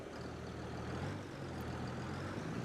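A tractor drives in Farming Simulator 22 on the Ohio Richlands map, giving a steady, loud low engine drone with a constant rumble and no talk over it.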